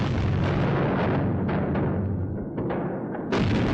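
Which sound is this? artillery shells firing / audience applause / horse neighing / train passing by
artillery shells firing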